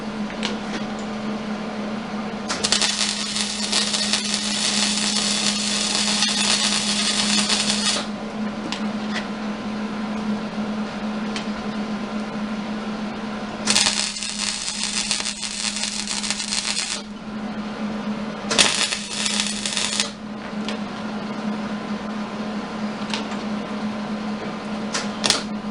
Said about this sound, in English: And then we'll weld it on.